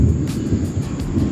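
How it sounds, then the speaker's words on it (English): Low, rumbling thunder rolls steadily beneath light rain and wind at a garage construction site in the Philippines, a continuous broad roar with no talk. "You can hear the thunder."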